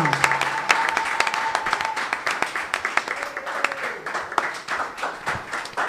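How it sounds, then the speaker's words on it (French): Scattered hand clapping from a modest crowd greeting the author of the book Go and See at its signing, sharp irregular claps close by, with a voice speaking briefly at the start. "Est-ce que tu es satisfait des acclamations ce soir?"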